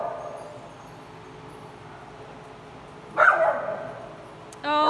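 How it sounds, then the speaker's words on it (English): Small dogs playing indoors give a few yips and barks, one short sharp burst near the end of a quiet stretch with low background noise. "Oh, they're just puppies."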